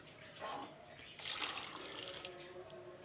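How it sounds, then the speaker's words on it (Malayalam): Water poured into a pot of love-lovi fruit, about 250 grams, for boiling with salt; a short splash followed by a longer, steadier pour, fairly close and quiet. "ഇതിലേക്ക് കുറച്ച് വെള്ളം ഒഴിച്ചു കൊടുക്കാം."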